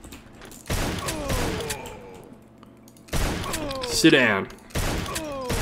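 Gunfire in a bar shootout in Maximum Action: bursts of rapid shots in separate volleys with gaps between, loud and close, and a voice speaks briefly.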